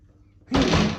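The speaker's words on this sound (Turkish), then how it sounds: "Açalım mı kapıyı?" A door is pulled open for a cat with a sudden thud followed by a brief rattling swing, close and fairly loud after a near-silent moment.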